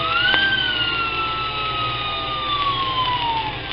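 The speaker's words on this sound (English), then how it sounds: "the little fire engine blew its little moaning siren." A siren wails steadily, its pitch sliding slowly downward in a long moaning tone, loud and continuous with a low engine rumble beneath.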